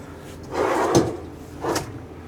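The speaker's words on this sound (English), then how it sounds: "Nice soft close. Did you see that? Pulls itself right on in." Soft-close drawer fitted with a clipped-in basket sliding shut in an RV, a rolling slide followed by two gentle thuds as the drawer pulls itself closed.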